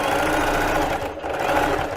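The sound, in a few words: domestic sewing machine stitching finishing on underwear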